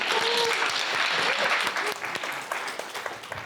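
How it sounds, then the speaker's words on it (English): An audience claps in a sustained round of applause, dense and lively at first, then thinning and tapering off toward the end, with a few scattered voices underneath. "Round of applause for our"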